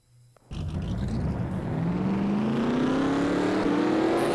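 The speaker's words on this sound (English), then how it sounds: "And we just got the command to start the engines" NASCAR Nationwide Series stock cars firing up their engines together at the Camping World 200, a sudden loud roar that settles into a steady, swelling rumble with rising pitch as the field revs.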